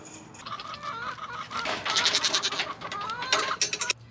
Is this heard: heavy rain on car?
no